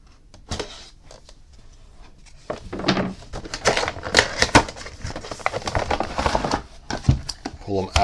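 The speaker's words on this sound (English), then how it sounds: "let's first cut through the tape on top" A blade slices through packing tape on top of a Super7 Modulok toy box, producing scratchy crinkles and small thunks of cardboard that grow busier partway through, close by, while a person talks over them.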